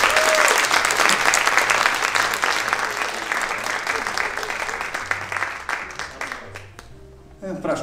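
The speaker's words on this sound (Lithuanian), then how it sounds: "Tai jūsų audringi aplodismentai" Loud, sustained applause from a live audience welcomes the evening's guest at a Lithuanian dialogue event. Dense clapping runs throughout and thins slightly before a brief dip near the end.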